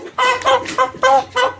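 Broiler parent-stock roosters cluck up close in a series of five loud, short, evenly spaced calls against a quiet background.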